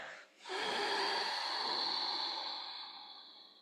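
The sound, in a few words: exhaling breath during yoga flow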